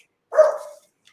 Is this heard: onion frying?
no